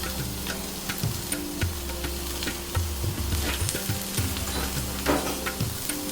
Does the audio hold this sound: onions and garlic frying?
yes